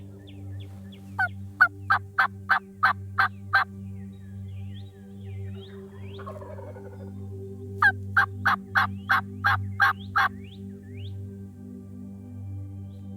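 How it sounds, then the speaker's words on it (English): Wild turkeys gobble in the woods near an alfalfa field, in two loud rapid runs of about eight gobbles each over a steady low background hum, with no talk. "We got birds gobbling in the woods all around us."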